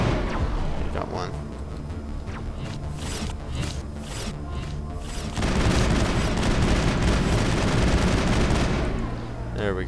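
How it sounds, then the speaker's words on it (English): Gunfire and combat noise rattle through a Mass Effect firefight, then a louder, denser burst of explosive sound from a thrown grenade takes over midway and carries to the end under a voice. "Whoops, I accidentally threw a grenade"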